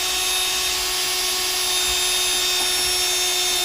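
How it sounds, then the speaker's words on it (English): A power drill drilling out a rivet on a Portland Pudgy dinghy whines continuously at high speed, close and loud, with a steady buzzing tone throughout. "basically, just drill out the rivet."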